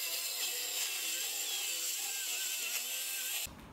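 A power saw cutting through a wood plank for a sliding barn door, holding a steady high whine that stops abruptly near the end.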